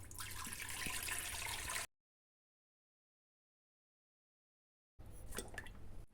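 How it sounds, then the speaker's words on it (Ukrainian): Running cold tap water splashes briefly over mushrooms in a colander, then cuts to silence for a few seconds before the water sound returns with light clatter. "Відкидаю на друшляк і промиваю холодною проточною водою"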